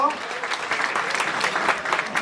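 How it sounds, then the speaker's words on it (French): Scattered applause from an audience at a culinary diplomacy gathering in Paris, a moderate crowd clapping continuously, with a voice audible over the claps. "Vous applaudissez très très fort"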